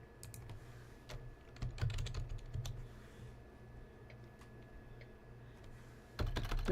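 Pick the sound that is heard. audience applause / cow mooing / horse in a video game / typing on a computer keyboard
typing on a computer keyboard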